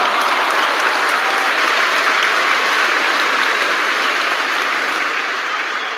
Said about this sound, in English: Let me give applause for those packages.